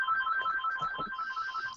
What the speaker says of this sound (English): as Lance goes to answer his phone right now